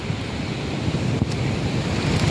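Rough sea surges against a rocky shore of black, algae-covered stones on a fishing outing, a loud, continuous roar of surf mixed with buffeting wind on the microphone.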